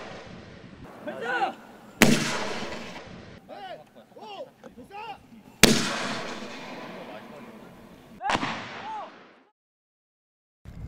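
Mortars fire in a South Korean army live-fire training exercise. Three loud booms come several seconds apart, each fading into a long rumble, while soldiers shout commands between the blasts.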